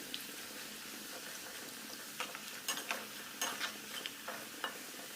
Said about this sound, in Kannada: ಇದನ್ನು ಕೂಡ ಅದೇ ರೀತಿ ಫ್ರೈ ಮಾಡಿ ತೆಗಿತಾ ಇದ್ದೀನಿ